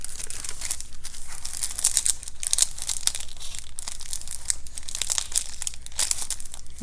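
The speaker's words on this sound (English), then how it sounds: "Get that nice crinkly sound." Paper crinkled up close during a craft session making embellishments for a file folder journal: a steady, dense crackle and rustle lasting the whole stretch with no talking.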